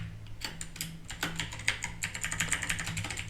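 Fingers type on a computer keyboard while entering an email address for a new account, a quick, close run of crisp key clicks in an uneven rhythm, with no talk.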